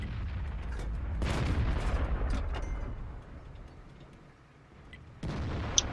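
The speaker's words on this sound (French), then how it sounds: "Bonne cadence de tir, hein." A tank cannon fires in a video game, delivering a heavy boom with a long rumbling tail. A second loud shot follows near the end over the low battle noise of the game.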